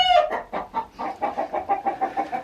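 Young chicks in a brooder give a run of rhythmic peeping chirps, about a dozen in quick succession, close and clear with no voices.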